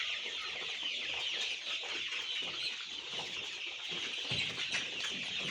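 A shed crowded with around five hundred small broiler chickens gives off a dense, continuous chorus of clucking and chirping, steady and fairly loud throughout.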